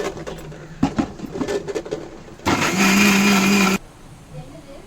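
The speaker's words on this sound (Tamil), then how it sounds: "மசாலையை மிக்ஸி ஜாரில் போட்டு லைட்டாக தண்ணி ஊற்றி இப்போ அரைக்க போகிறேன்." A person talks, then a mixer grinder whirs loudly and steadily for just over a second, grinding fish curry spice paste with a little water, before stopping abruptly.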